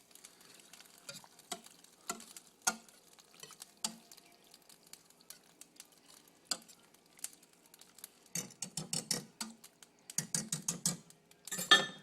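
Pasta tipped into a pot of homemade vegan cheese sauce and stirred, giving scattered scraping clinks and wet sloshing that build into denser bursts of stirring, close by with no talking.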